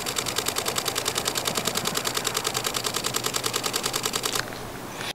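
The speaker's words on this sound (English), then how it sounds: "I have this set up on the sequential shooting mode. I'm just gonna hold down this button for a few seconds and I'll get" An Olympus E-M1 Mark III camera shutter fires in sequential burst mode, a fast, even run of crisp mechanical clicks held for about four seconds before stopping abruptly, close and loud.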